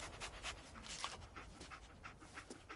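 Dogmeat, the dog companion in the Fallout 4 video game, pants in quick, steady breaths that run throughout at moderate, close level, with faint game ambience underneath and no talking.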